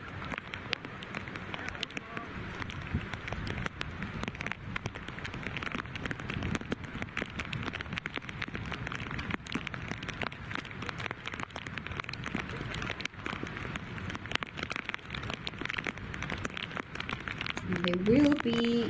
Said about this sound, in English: I think we're just starting to hear the pitter-patter of rain in the background